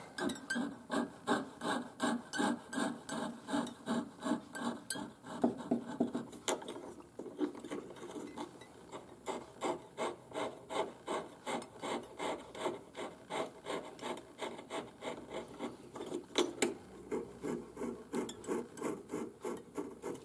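A hand saw cuts through wood along a traced line, its rasping back-and-forth strokes steady and evenly paced, close and moderately loud throughout with no talking.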